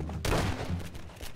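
A burst of loud gunfire in Garry's Mod Prop Hunt erupts after a brief quiet moment, with rapid overlapping shots and thuds continuing throughout.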